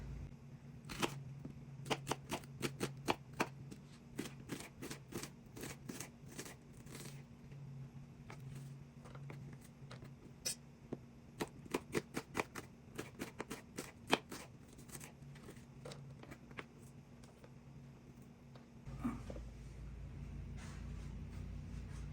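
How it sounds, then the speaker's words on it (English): Knife chopping onions into small cubes on a board, heard as a long run of quick, fairly quiet, irregular taps for about nineteen seconds before the chopping stops. "let's cut up the onions"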